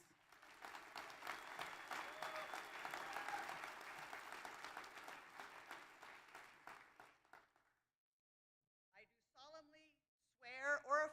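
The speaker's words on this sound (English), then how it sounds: "And again, a warm round of applause." A warm round of applause from the crowd at the County of Hawai'i inauguration, steady for about seven seconds before fading to silence, followed by brief spoken voices.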